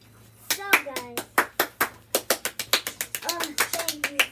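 Enthusiastic clapping from one person or a small group, fast sharp claps in a quick run lasting several seconds, close and clear, with a voice chiming in between claps.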